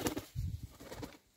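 A few pigeons give soft, low cooing calls nearby, a faint burst of rounded notes in quiet surroundings with no voices.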